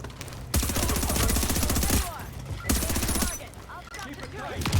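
Gunfire in the video game The Division, with bursts of rapid automatic shots in two loud stretches separated by quieter gaps, alongside in-game sounds and a voice.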